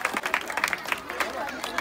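An audience claps for a fancy dress contestant costumed as Lord Mahadev with matted hair and a damru, producing a quick, dense patter of many hands that is fairly loud and holds steady through the moment.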